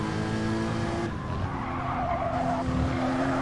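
A race car spinning out in an online racing game at Brands Hatch, with a long, loud tire squeal and skid over a droning engine, the screech shifting pitch midway as the car rotates.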